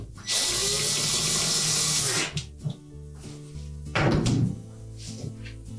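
A power driver whirs for about two seconds, driving a screw to secure the two halves of an LG dishwasher door, followed by a few thunks and handling clatter.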